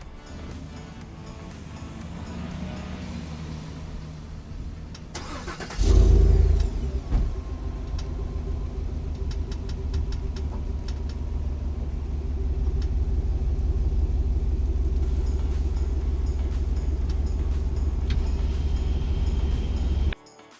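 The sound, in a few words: truck driving up onto service ramps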